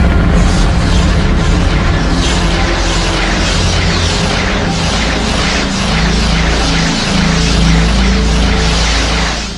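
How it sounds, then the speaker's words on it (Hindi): A massive explosion sound effect portraying the Big Bang, a loud, dense, roaring rumble that stays heavy and sustained throughout with deep low-end power, swelling slightly and then fading near the end. "हमारे ब्रह्मांड में अचानक विस्फोट हो गया"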